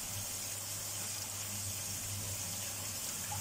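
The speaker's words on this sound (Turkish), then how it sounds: "Şimdi arkadaşlar hemen bulgurumuzu yıkayalım" Kitchen tap running water over bulgur being washed, a steady faint gushing stream, constant and unbroken, with no talk.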